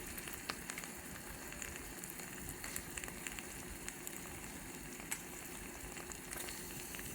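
Onions and capsicum cook in a tiny miniature pan, village style, giving a faint, steady frying hiss with occasional soft crackles and no talking.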